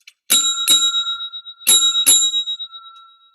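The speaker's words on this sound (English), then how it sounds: "In the way of timekeeping, we're going to ring a bell," A bell used for timekeeping at a virtual conference rings two quick bright strikes, then after a short pause two more, each ringing on with a clear sustained tone that slowly fades.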